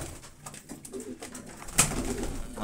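Pigeons cooing in a loft among breeding pairs: soft, low repeated coos at moderate distance with faint rustling, plus one sharp click near the end.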